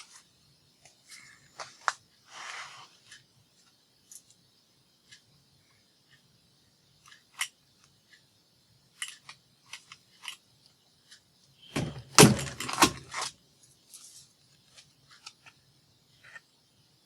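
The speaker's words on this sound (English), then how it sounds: "And then just punch your holes." A hole punch bites through a stack of cards in a few sharp, crisp clicks with a louder crunching burst midway, separated by quiet handling rustles in a still room.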